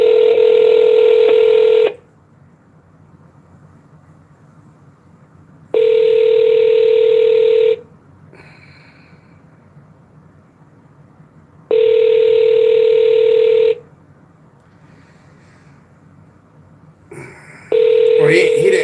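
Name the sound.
telephone call dialing and ringing unanswered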